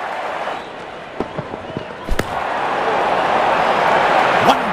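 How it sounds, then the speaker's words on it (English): A cricket bat striking the ball in the Real Cricket 22 video game, a brief sharp knock heard over steady crowd noise and commentary. "Wonderful sound of the bat"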